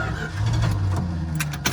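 A 440 V8 big-block engine in a Travco L'Esprit motorhome starts from cold and settles into a low, rumbling idle, close and loud, with faint clicks and a light metallic jingle near the end.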